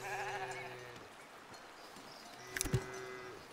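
Sheep bleat in the video game Foundation, a single clear bleat standing out over a steady game ambience with a soft rhythmic background.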